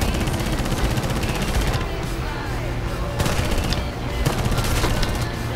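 Wing-mounted .30 caliber machine guns on a P-40 fighter fire in the War Thunder flight game, dense rapid bursts layered over the loud, constant drone of the engine.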